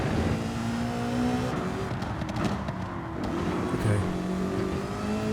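A fast car accelerating flat out in the racing game Gran Turismo 7, engine droning and whining steadily at high revs throughout, with gear-like pitch shifts and no talking.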